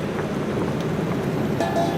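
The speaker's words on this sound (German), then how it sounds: "Sprudelt's und kocht's." A pot of pea soup boils on a stovetop, giving a steady, close, dense bubbling and popping that continues evenly throughout without pause.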